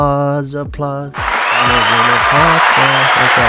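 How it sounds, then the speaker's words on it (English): Applause sound effect: a burst of crowd clapping rises after a short stretch of voiced or musical tones, then continues steadily to the end while a low voice talks over it. "And clapping. What was the sound? Applause."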